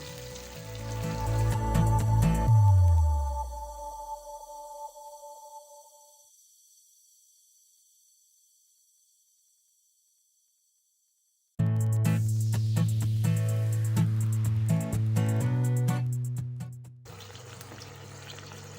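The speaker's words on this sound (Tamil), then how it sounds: "தேவையான அளவு தண்ணி சேர்த்துக்கலாம்" Water pours loudly into a pot of sambar, fades away into silence, then a second strong pour splashes in and stops abruptly.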